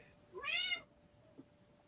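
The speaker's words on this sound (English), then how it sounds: "I hear a kitty." A cat gives a single clear, drawn-out meow from nearby in a quiet indoor room, followed by a faint short chirp.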